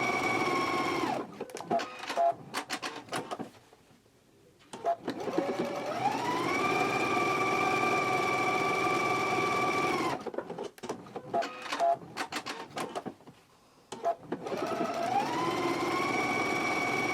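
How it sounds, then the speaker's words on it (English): A sewing machine stitches a skirt pocket along its seam line, a loud, steady whirring hum that runs in long bursts, stops briefly, then starts up again and settles. "go to the machine and stitch it"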